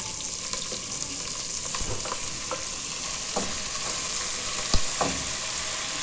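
Onion, bell pepper and tomato frying together in a pan, a steady bright sizzle with occasional sharper pops and crackles over the continuous hiss.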